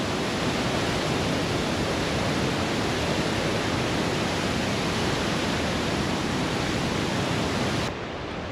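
A waterfall near Valemount, British Columbia rushes in a dense, loud, unbroken roar of broadband water noise that fills the whole scene steadily from start to finish.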